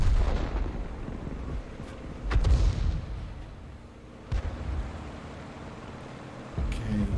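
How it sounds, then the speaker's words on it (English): A 105 leFH18B2 artillery gun firing in World of Tanks, a game: three heavy booming shots spaced a couple of seconds apart, each with a sharp crack and rumbling tail, moderately loud. "Fires another round at the M4 and gets a direct hit this time."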